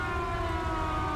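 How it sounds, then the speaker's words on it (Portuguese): A siren wails steadily inside GTA 5 during a doomsday scenario, with a continuous droning tone at moderate level and no speech. "mais uma vez a sirene"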